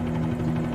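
Bell 47G helicopter engine and rotor running at full flying RPM, a loud, steady close-up drone with a continuous buzzing hum and no talk.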